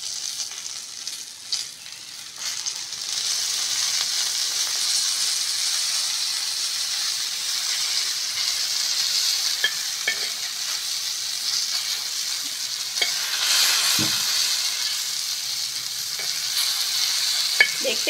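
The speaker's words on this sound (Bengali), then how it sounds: "উপর থেকে অল্প অল্প করে তেল দিয়ে ভালো করে ভেজে নিতে হবে" Lote fish (Bombay duck) sizzling steadily in hot oil in a pan, a close, continuous hissing fry with occasional small pops and stirring scrapes, and no voices.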